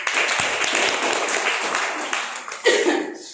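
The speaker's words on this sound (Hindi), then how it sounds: "एक बार जोरदार तालियां हो।" Audience applause at an AWPL product training meeting in Kusheshwar Asthan, a dense continuous patter of many hands clapping loudly throughout, swelling briefly near the end with a few cheers mixed in.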